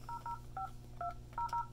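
Keypad tones from an Avaya J Series desk phone as a password is entered, a quick run of about seven short beeps at an uneven pace, clear and close over a faint steady hum.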